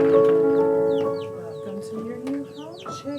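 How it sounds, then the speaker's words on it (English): Chickens on a homestead or farm clucking and squawking in a quick, uneven series of calls, close and fairly loud, with no talk. "Whether you have 3 chickens"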